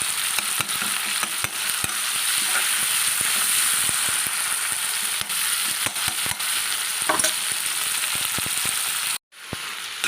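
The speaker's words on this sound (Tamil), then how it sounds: "இந்த வெங்காயம் இந்த தக்காளி நம்ம வதக்கிட்டுருக்கோம் தக்காளி நமக்கு நல்லா வேகட்டும்" Onions and tomatoes sauté in a pan for pani puri masala, giving a loud continuous sizzle broken by frequent scraping clicks of a stirring spoon, with a brief drop near the end.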